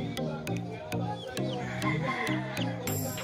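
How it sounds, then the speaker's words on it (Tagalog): Bantam chickens clucking and calling in short repeated bursts, close by, over a busy background with steady tonal music. "Mga bantam chicken."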